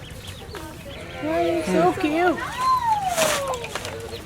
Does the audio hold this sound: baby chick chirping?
yes